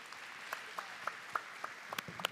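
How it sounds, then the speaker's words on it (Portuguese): Faint, scattered clapping from a business audience welcoming a speaker, a handful of separate claps at uneven intervals with some quicker doubled claps toward the end. "Uma salva de palmas para a Cíntia"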